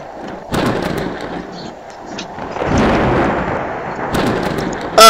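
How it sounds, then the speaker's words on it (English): Thunder from a thunderstorm in a Roblox natural-disaster survival game: broad rolling rumbles that swell and fade in waves, loud and near, ending with a sharper crack. "How come the sun is still out and it's a thunderstorm?"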